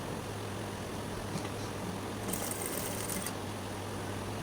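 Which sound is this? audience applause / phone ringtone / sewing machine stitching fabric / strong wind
sewing machine stitching fabric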